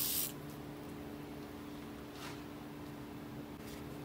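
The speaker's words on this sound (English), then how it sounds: "To remove this pin by spraying it down with some penetrating oil first." Penetrating oil sprayed from an aerosol can onto a brake pad retaining pin of a Bendix air disc brake, a short close hiss at the start followed by quiet workshop hum with faint later spritzes.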